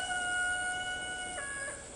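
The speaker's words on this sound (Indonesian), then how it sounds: "itu suara ayam berkokok" A rooster crows once at a distance in a rural rice-field setting, a thin drawn-out call rising in pitch over steady background hiss, faint and alone.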